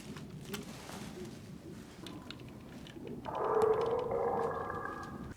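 Infected creatures from The Last of Us TV series let out low, eerie groaning and clicking vocalizations, faint at first and then swelling into a sustained, droning, multi-toned moan near the end.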